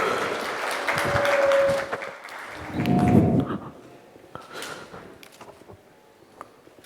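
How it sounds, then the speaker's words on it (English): Audience applause welcoming a keynote speaker onto the stage at an insurance industry conference, a broad wash of clapping that swells, dips and fades out over several seconds, with a few louder sharp claps near the end. "with a big, big round of applause onto the stage"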